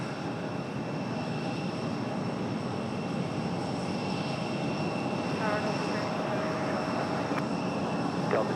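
A UPS heavy jet at Raleigh-Durham International Airport, a broad steady engine roar at moderate distance with a faint whine running through it, and a brief soft chirp partway through.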